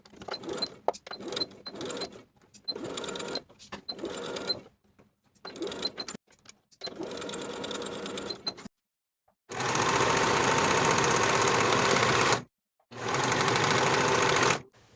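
A sewing machine stitches the side and inner leg seams of a pair of summer shorts, fast mechanical whirring in several start-stop bursts, with two long loud uninterrupted runs at the end.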